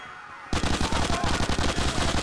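Rapid automatic gunfire in the video game GTA, a loud burst of evenly spaced shots that starts abruptly and keeps going as a steady rattling stream.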